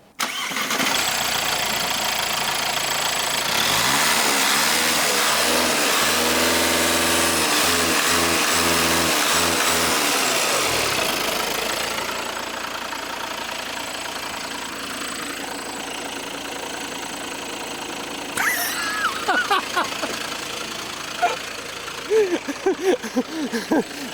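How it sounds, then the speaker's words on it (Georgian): A Volkswagen Scirocco diesel engine cranks and catches, running loud and rough with a steady throb for about ten seconds before settling into a quieter idle, with a few clicks and brief sounds near the end. "ახლა მე მინდა აი ამ მანქანის ძრავის ხმას მოусმინოთ"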